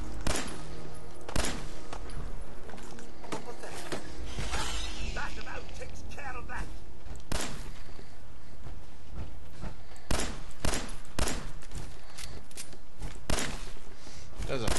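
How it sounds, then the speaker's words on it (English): Sharp, booming shots from an exploding pistol in Fallout 4, fired one after another in an irregular series of loud cracks with bursting impacts, over game ambience and brief speech in the background. "I do like this exploding pistol"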